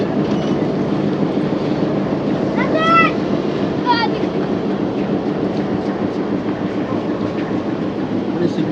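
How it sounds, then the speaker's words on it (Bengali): A locomotive engine is being coupled to a Joydevpur commuter train carriage at a station, heard as a steady low rumble of idling railway machinery with brief high metallic squeals, while people talk nearby. "এই যে এই ইঞ্জিনটি এখন এই বগির সাথে লাগানো হবে"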